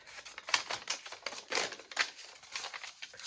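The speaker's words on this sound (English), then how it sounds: "cut that off there." Scissors snipping through a strip of paper for a cut-out collage, a quick run of crisp, close cuts with short pauses between them and no talking.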